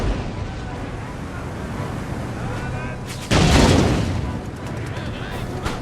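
Artillery fires in the Empire: Total War battle game: one heavy, loud boom bursts out midway over a continuous low rumble of battlefield and sea ambience.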